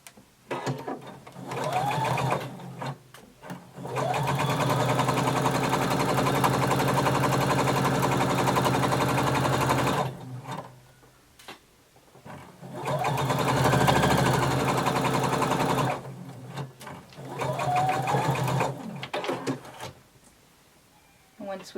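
A sewing machine stitches the fabric side seams of a bodice in three long, steady runs of motor whir, each broken by brief pauses filled with handling clatter and a few spoken words.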